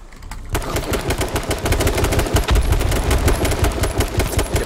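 Rapid automatic gunfire in H1Z1, a dense, loud, close stream of shots starting abruptly after a brief quiet moment and continuing without pause.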